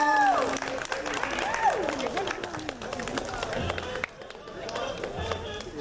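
An audience at a cosplay contest at a Fresno toy, anime and comic convention applauds and cheers in a steady wash of clapping and crowd noise, with talk and chatter mixed through it.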